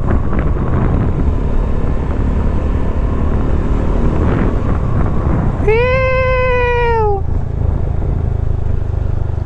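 A truck passing on the road, heard as a loud, steady rumble of engine and road noise throughout, with a brief wailing tone partway through.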